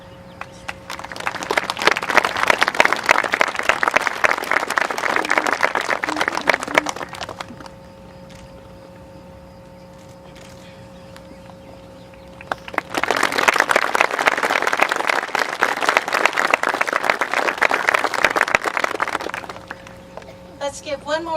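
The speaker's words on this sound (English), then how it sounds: "Let's give one more round of applause to our outgoing and incoming student council presidents." Audience applause at a school commencement ceremony, two sustained bursts of many hands clapping in a hall, loud and dense, separated by a quieter pause.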